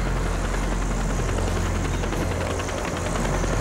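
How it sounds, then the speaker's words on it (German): A helicopter flies close by, its loud, steady rotor and engine roar filling the scene with a dense, constant drone that never lets up. "Hubschrauber."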